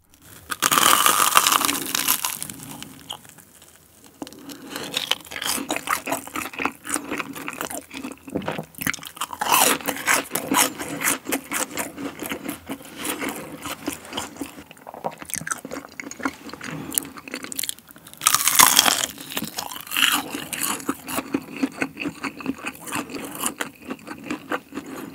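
Close, loud crunching and chewing of crispy chili fried chicken and cheese balls with green onion kimchi, with bites and crunches repeating in an uneven rhythm throughout.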